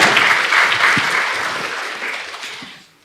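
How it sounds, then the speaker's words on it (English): Applause from an audience at a national cancer center international symposium fills the hall, loud at first and then gradually fading away over about three seconds. "Please give him a round of applause"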